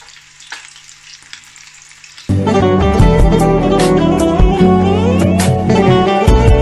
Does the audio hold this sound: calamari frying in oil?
yes